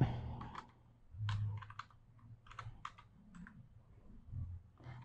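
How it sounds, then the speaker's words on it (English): Someone types HTML code on a computer keyboard, producing quiet, irregular bursts of close key clicks and taps with short pauses between the runs. "So I'll be typing the HTML code."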